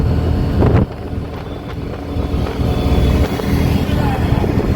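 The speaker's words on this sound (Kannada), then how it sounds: "ಬರೀ ಗಾಳಿ." Strong wind buffets the microphone in loud, low rumbling gusts with a brief drop near the start, and someone talks briefly over it.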